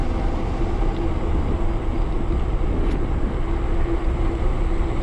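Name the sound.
Metakoo Cybertrack 300 e-bike riding at full throttle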